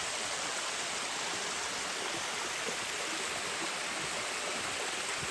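Water drops from high up at Ganpatipule in Konkan, making a steady dense rushing hiss without pause, loud and close, with no voices.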